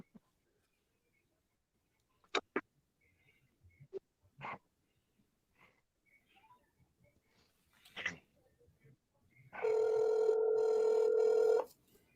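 A telephone rings in the background, one sustained electronic ring lasting about two seconds near the end, preceded by scattered quiet noises and a few brief barks or thumps.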